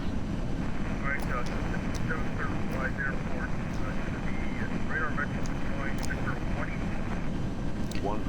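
A fixed-wing airplane on approach to land on the very short runway at Lukla: a steady, full engine and wind drone fills the cockpit throughout, with faint chirps and muffled voices beneath it.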